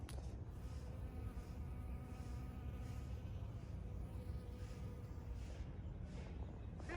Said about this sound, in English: Look at that beautiful honeybee doing its job.